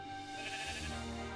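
A sheep in Minecraft gives a single drawn-out bleat, close and clear, lasting over a second.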